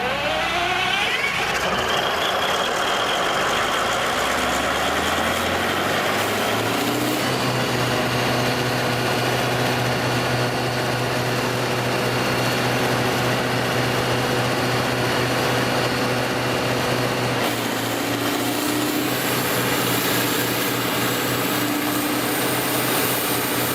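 A giant Caterpillar 3516 2000 kW diesel generator cold-starts, cranking and catching into a loud, steady low roar that settles into a continuous heavy idle drone close by, with no voices.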